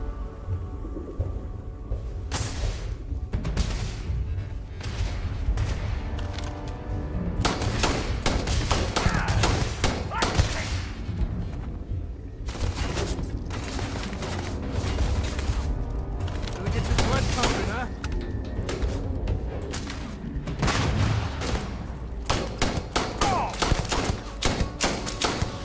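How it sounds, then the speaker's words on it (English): Starfield combat with bursts of rapid gunfire, heavy thuds and grenade blasts coming in dense clusters with brief lulls, loud and close throughout, with occasional speech mixed in. "Enough of the grenades."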